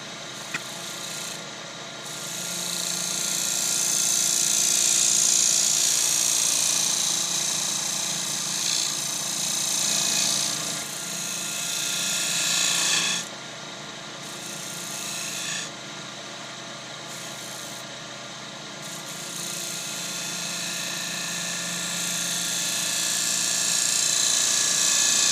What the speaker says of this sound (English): I'm going to go and have a sharpen up. Tickle on the Tormek time.